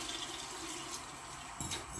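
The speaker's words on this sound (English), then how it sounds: "So that's some cold water," Cold water trickles steadily into dumpling dough for beef stew, a soft continuous pour with a brief louder splash near the end.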